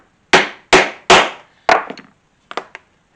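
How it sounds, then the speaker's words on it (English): A hammer strikes a setter to set a rivet in leather, with three loud sharp blows in quick rhythm, then a fourth followed by lighter taps and a final small cluster, all close and alone. "set that first rivet"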